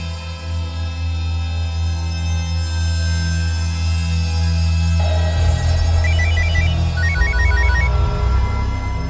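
A telephone rings in short, repeated electronic trills that cut over a steady, loud musical drone indoors.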